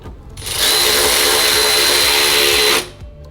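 A power tool drives the 10mm bolts holding a plastic YotaVerse V2 grill to the radiator support of a 3rd Gen Tacoma, a single loud close whir of about two seconds that rises and stops abruptly.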